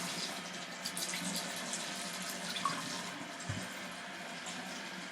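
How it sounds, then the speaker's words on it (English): Water from a running tap pours steadily as an egg that has soaked in vinegar is rinsed off, a constant faint splashing stream with a small thump near the end. "we're going to rinse it off"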